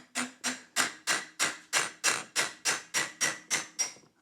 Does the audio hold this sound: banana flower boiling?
no